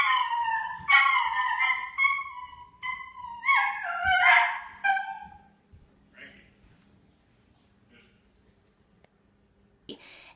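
A dog howls and cries in drawn-out, wavering wails, close and fairly loud, rising and falling over several seconds before tapering off into quiet with a few faint clicks.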